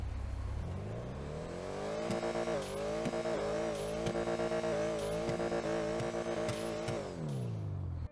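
Benefactor Schwartzer sports car in GTA Online revving and accelerating steadily, its engine note rising and holding loud and close with brief dips at gear shifts, no talk over it.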